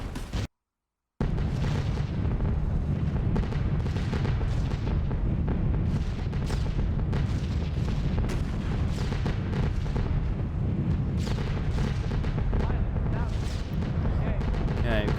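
Flak bursts in the B-17 The Mighty 8th flight game, a steady roar of bomber engines carrying repeated booms and rumbling detonations at an even, relentless pace, with someone talking over it.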